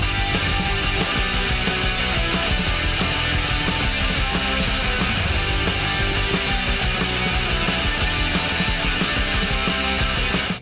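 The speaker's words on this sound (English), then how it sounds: "here's an example of what a lead using octaves can sound like." A distorted electric guitar plays a fast punk lead in doubled octave notes over driving drums, dense and loud throughout.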